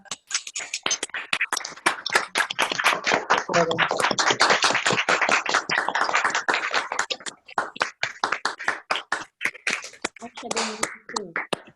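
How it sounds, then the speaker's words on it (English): An online audience unmutes to applaud Sandipbhai after an evening lecture, giving scattered, uneven claps from many separate microphones, with voices talking over them throughout. "unmute and give a round of applause to Sandipbhai for this evening lecture"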